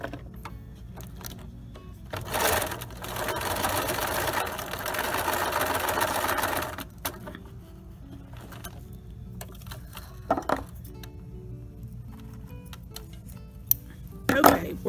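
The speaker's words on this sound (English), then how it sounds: "And attach the Velcro. This just makes it easier when you're attaching your two pieces of the pillow together if the Velcro has already been stitched in place." A sewing machine stitches Velcro onto a pillow in two bursts of steady mechanical whirring, a longer run followed by a short one, with someone speaking quietly between them and scattered clicks from handling the fabric.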